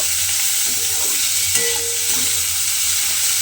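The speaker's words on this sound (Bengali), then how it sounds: "লাউয়ের খোসাটা দিয়ে এইভাবে একটু নাড়াচাড়া করে একটু রান্না করে নেব" Bottle gourd peel frying in oil while being stirred, a loud, dense, steady sizzle with occasional spatula scrapes, close up and continuous with no talking.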